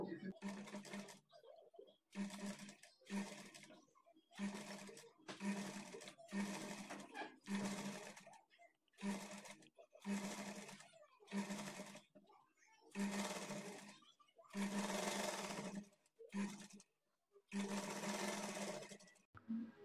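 A sewing machine stitches the side joint of a blouse in repeated bursts of close, steady whirring, each run lasting one to two seconds and separated by short pauses, with no talk over it.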